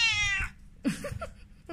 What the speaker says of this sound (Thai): แมวกรี๊ด